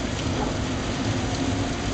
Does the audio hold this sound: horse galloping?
no